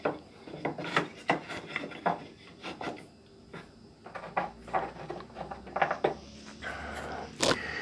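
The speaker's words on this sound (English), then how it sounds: "just wrap the sandpaper around it like this, and then I can help with these edges here." Sandpaper wrapped around a small wooden block rubs by hand over the wood edges of a Stratocaster guitar body. The strokes come in quick, uneven rasping passes, close and steady, with no talk.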